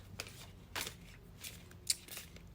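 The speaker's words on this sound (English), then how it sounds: "let me shuffle your tarot cards" Tarot cards shuffled close by in short papery riffles and soft slaps spread over a couple of seconds, with no voices.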